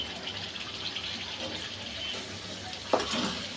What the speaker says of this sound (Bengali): একটু পানি দিয়ে দিচ্ছি আমি।